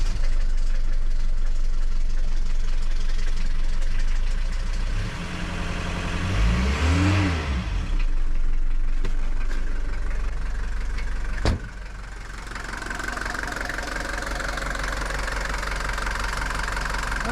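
Mercedes-Benz W123 OM616 diesel engine cranking and firing up after a valve adjustment, catching around the middle and settling into a steady, loud, close-up idle with a rough clattering rumble and a brief sharp click near the end.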